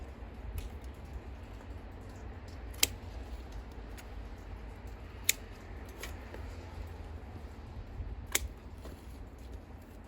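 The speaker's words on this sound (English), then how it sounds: "So I'll just cut off what I can now and do the rest later." Pruning shears cutting branches on a Rose of Sharon garden tree in February, a few sharp isolated snips spaced seconds apart over a steady low outdoor rumble.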